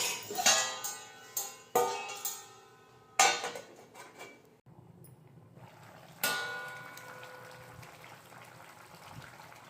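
A metal lid clanks onto a pot of masala curry in a home kitchen, several sharp clattering knocks then a softer settling clink, with faint bubbling and kitchen clatter continuing between them.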